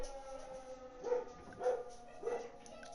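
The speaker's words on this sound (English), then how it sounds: "If you can hear my dogs barking, that's because someone has entered the premises." Several dogs bark indoors at someone entering the premises, three short evenly spaced barks at moderate distance over a quiet background.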